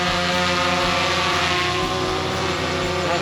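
A DJI Phantom 3 Pro quadcopter drone flies nearby on a test flight, its propellers giving a loud, steady whine with layered tonal harmonics and no voices.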